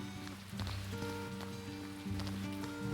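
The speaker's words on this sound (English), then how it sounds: "It's raining, that's why we don't have to water the plants." Rain falls in the video game Bloomtown as a soft, even patter under a gentle melodic game soundtrack with sustained tones, staying quiet and steady throughout.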